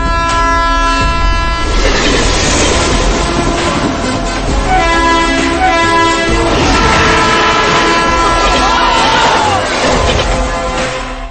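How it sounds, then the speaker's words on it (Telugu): A train thunders past on a railway track in a film scene, loud and close throughout, with a sustained horn blast, heavy rumbling wheels and rattling wagons filling the whole stretch. "ఆ ట్రాక్ మీద Repalle passenger right time sir"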